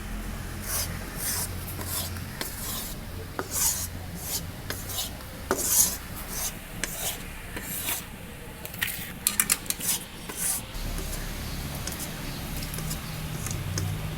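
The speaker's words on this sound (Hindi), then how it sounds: "अब इसे अच्छे से हम इसे मिलाएंगे घी में" Water chestnut flour being stirred into ghee in a pan for a sweet halwa, heard up close as steady scraping and rubbing of a spoon against the metal, with occasional sharper clinks, continuous throughout with no talking.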